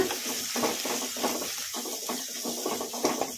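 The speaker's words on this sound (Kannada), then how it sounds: "ಉಳ್ಳಾಗಡ್ಡಿ ಲೈಟ್ ಗೋಲ್ಡನ್ ಬ್ರೌನ್ ಕಲರ್ ಬರೋವರೆಗೂ ಫ್ರೈ ಮಾಡ್ಕೊಂಡ್ಬಿಡೋಣ" Onions fry in spices for cashew masala rice over a medium flame, a steady close sizzle broken by repeated scraping stirs of a spoon in the pan, with no talking.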